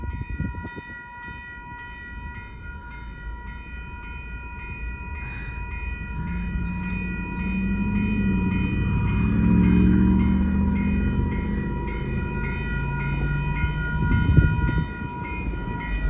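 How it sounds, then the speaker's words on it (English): A malfunctioning Union Pacific railroad crossing bell rings steadily and loudly at close range at S. Lyons Ave, a continuous metallic tone with a low rumbling background and no voices. "the crossing is activated. Yep, Union Pacific added a new bell."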